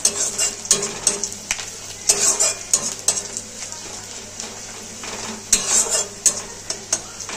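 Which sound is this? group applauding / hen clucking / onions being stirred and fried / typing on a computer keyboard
onions being stirred and fried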